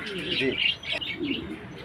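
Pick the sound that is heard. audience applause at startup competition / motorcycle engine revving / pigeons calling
pigeons calling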